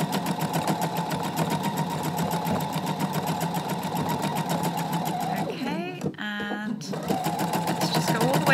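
A sewing machine does free motion embroidery on lightweight water-soluble stabiliser, running in a steady rapid whir close to the mic, with a brief pause near the end before stitching resumes.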